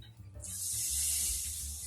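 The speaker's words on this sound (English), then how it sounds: "Did you hear that sizzle?" After a soft thump, a bright, steady hiss rises and holds as butter sizzles in a hot pan, close and fairly loud.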